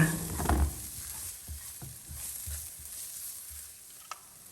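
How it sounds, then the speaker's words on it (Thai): Oil sizzles softly in a wok while a utensil stirs and scrapes salt in a slow, regular rhythm, with a brief louder clatter at the start. "ตั้งกระทะเตรียมผัดนะคะ ใส่น้ำมันลงไป 1 ช้อนโต๊ะใส่ 3 เกลือลงไปผัดให้หอมดีเลยค่ะ"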